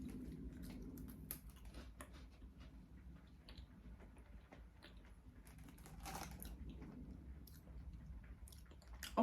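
Quiet, close crunching and chewing of salty French biscuits, with soft irregular bites and mouth sounds over faint background noise.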